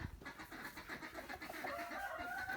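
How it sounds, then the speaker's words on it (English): Farm chickens cluck and murmur close by in a steady, busy stream, with one bird rising into a longer drawn-out squawk near the end. "Got these fine chickens doing chickeny things."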